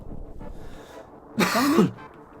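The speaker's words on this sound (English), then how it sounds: "That was a cough." A single short, harsh cough bursts out close to the microphone after a quiet stretch of faint background sound.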